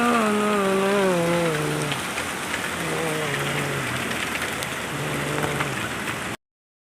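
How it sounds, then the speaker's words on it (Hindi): Steady rain falls at a home in India, a continuous broadband hiss throughout, with a woman singing over it at first and fainter voices later. "अभी बारिश हो रही थी"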